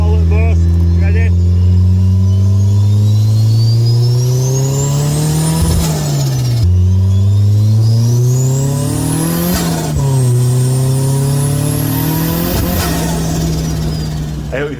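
A car engine with its air filter placed inside the cabin revs in second gear, up to about 3,000 rpm at half throttle, in three rising pulls with gear-like drops between, loud and close, heard from inside with an induction roar.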